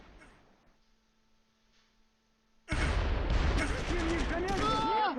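Grenade blasts and gunfire in the Close Combat III war game, set at Stalingrad. A low hum comes first, then a sudden loud burst of crackling explosions and shots that keeps going to the end.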